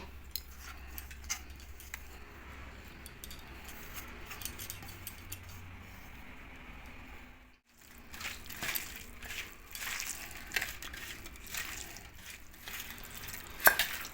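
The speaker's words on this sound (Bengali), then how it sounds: "এবার আমি মশলাটা দিয়ে মেখে নেব।" Fish pieces being kneaded by hand with spice paste and mustard oil for fish paturi, giving soft, quiet, continuous squelching and stirring with a brief pause midway, then wetter mixing sounds.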